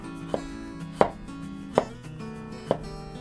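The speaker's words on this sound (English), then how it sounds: "cut the ginger into thin slices" A knife slicing ginger into thin slices on a cutting board for a chicken and vegetable stir-fry, with four distinct sharp chops spaced irregularly against quiet background music, close and clear, with no talking.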